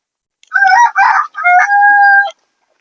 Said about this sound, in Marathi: बघा, तुम्हाला खुडूक कोंबडी पण दाखवते.